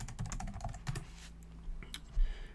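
Fast typing on a computer keyboard, with a steady run of close, crisp key clicks in irregular bursts and no voices.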